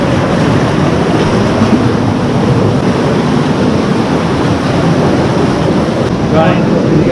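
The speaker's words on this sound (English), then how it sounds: "this is the stream that we've been following" Water rushes steadily in a dense, continuous roar that fills the cave, loud and close throughout with no pauses, from a flowing underground stream.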